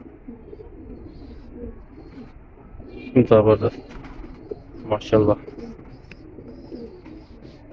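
A prized green-necked pigeon in a Lahore pigeon keeper's collection coos in two short, fairly loud bursts a couple of seconds apart, with people talking nearby.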